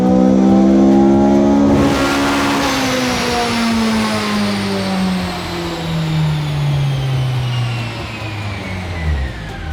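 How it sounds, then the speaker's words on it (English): A K-swapped Honda Civic engine with a straight-pipe intake and velocity stack revs hard on a dyno, climbing steadily through a long loud pull with a rising whine and intake roar, no talk. "Let's put a straight pipe intake on with a velocity stack and see if we can make more."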